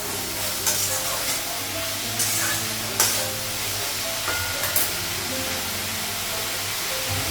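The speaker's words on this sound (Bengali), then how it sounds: "আর একটু ভেজে নেব।" Salt, turmeric and cumin powder frying in a pan in a Bengali home kitchen, a steady sizzle with a low hum and a few sharp utensil clinks against the pan.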